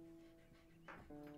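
A black dog in The Sims 4 pants in quick, rhythmic breaths, with soft whimpery tones and a faint game music drone underneath, fairly quiet and close.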